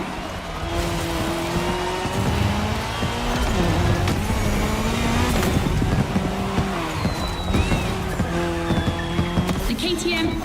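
In a racing video game, a Puma car and a KTM motorcycle rev their engines along a course, with tire squeals and changing engine pitches. A voice talks over the steady roar.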